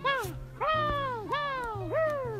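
Kitten meowing in a cartoon Lego Duplo scene, four drawn-out rising and falling meows in sequence, close and loud over a soft background tone.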